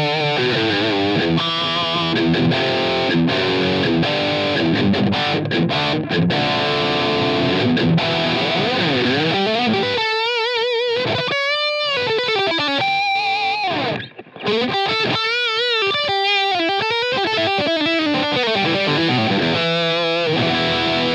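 Electric guitar through a Line 6 Helix Elektrik amp model with reverb added, a continuous driven, effects-laden passage of chords and melodic lines, loud and steady throughout with no talking.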